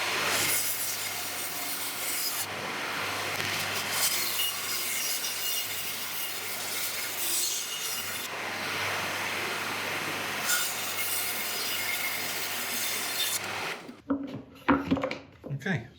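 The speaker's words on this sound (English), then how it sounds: "We'll take this over to the bandsaw" Woodworking bandsaw cutting wood pieces for a resin woodturning project, a steady loud rasping whine running continuously for most of the clip with slight changes in pitch as the blade works, then cutting off sharply into quiet handling clatter.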